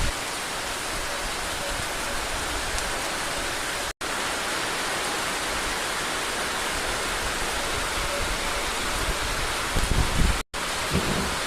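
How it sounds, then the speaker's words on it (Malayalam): Heavy monsoon rain in the Karkidakam season pours around a house, a dense, steady roar that carries on without letup and without any voices, with two brief dropouts. "എൻ്റെ വീടിൻ്റെ പരിസരത്തെ മഴയാണ് ഞാൻ എൻ്റെ മൊബൈൽ ക്യാമറയിലൂടെ പകർത്തുന്നത്"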